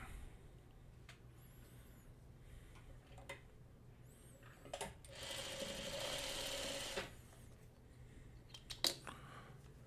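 A sewing machine stitches pieced quilt block fabric for a Farmer's Wife Star Gardener block, with a steady run of stitching in the middle, soft handling clicks around it, and no talking.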